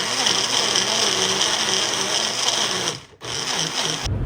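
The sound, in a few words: Magic Bullet blender grinding raw mango and green chilli chutney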